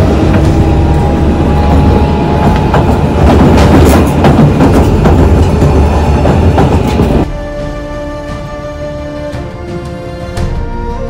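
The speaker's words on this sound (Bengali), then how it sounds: "ট্রেন এখন ক্রস করছে বর্ধমান জাংশন" The Patna–Howrah Vande Bharat Express runs through Bardhaman Junction with a loud, continuous rumble and clatter of rails that drops abruptly to a quieter hum about two-thirds of the way through.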